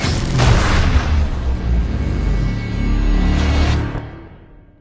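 A heavy, sustained explosion in an alien robot invasion film roars with deep rumbling booms for several seconds before fading out.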